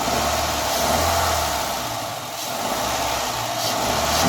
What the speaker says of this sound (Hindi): मैं इस गाड़ी को रेव भी करूँगा ताकि मुझे फाउंडेशन का जो है मज़ीद बहुत अच्छे तरीके से अंदाज़ा हो जाए